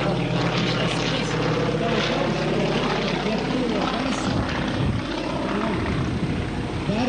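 The propeller airplane Lituanika flies over Nida, its engine a loud, steady drone that fills the whole stretch, with wavering tones as it passes overhead.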